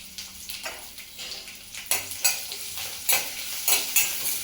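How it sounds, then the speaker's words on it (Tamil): Curry leaves fry with a soft sizzle while a utensil stirs them in the pan, its scrapes and taps coming in repeated, fairly close bursts. "லைட்டாக ஒரு கிளறி விட்டுட்டு"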